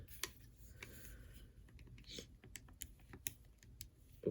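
A calculator's keys being tapped to enter two times sine of 30, a quick scatter of light plastic clicks, close and faint over low background hum, with no talking.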